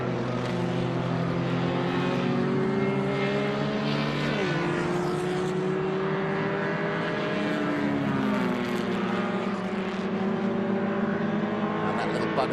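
Vintage race cars at VIR, a Porsche among them on the back straight, engines roaring steadily and loud with shifting pitch as cars pass, while a commentator talks over the noise.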